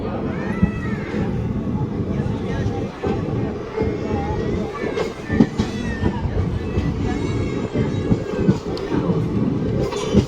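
A passenger train runs just after leaving Lathi station, heard from inside as a steady rumble with rhythmic clatter and occasional knocks, while voices talk over it throughout.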